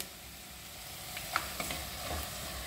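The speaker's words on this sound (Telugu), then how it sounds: "ఇవి కొద్దిగా ఫ్రై అవ్వాలండి. ఈ మాత్రం ఫ్రై కావాలండి." Food frying in a pan for chicken and pulav, cooking until golden brown, gives a steady close sizzle with a few light clicks and stirring scrapes throughout.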